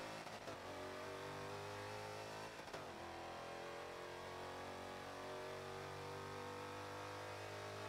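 A race car in a racing video game played with no driving assists, its engine revving up and dropping back in pitch as it brakes and accelerates, loud and continuous with no talking.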